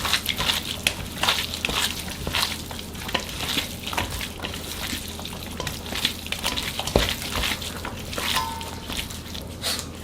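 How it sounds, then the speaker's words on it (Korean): Kimchi mixed and squeezed by hand with a spoonful of perilla oil, giving close, wet squelching and smacking textures in a steady, busy rhythm with a few sharper slaps, no talk. "들기름 1스푼 넣고 바락바락 주물러 주세요"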